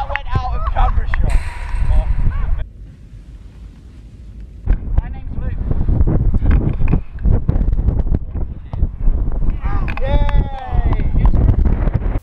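Strong wind buffets the microphone in heavy gusts during a football crossbar challenge, with voices talking and shouting underneath the blustery roar.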